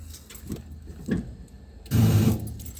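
A car engine idles steadily during a jump start, a low hum with a few brief surges and a louder rev near the end, close by with no talking.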